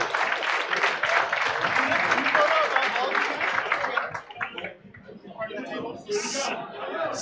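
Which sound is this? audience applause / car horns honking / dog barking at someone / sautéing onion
audience applause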